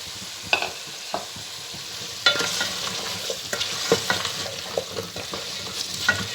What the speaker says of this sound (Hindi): अब हम इसमें आलू ऐड करेंगे और उन्हें भी 1 मिनट के लिए भूनेंगे अच्छे से